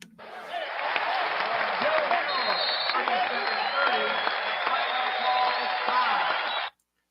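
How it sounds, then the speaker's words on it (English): Audience applause and clapping play in as a steady, thin-sounding burst that lasts about six seconds and then cuts off abruptly, with no talking over it. "Let's give another hand clap."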